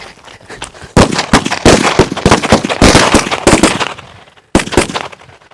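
A Golden Lakshmi wala firecracker string goes off in a rapid, loud chain of sharp cracks and pops, with a brief pause near the end before a final few bursts.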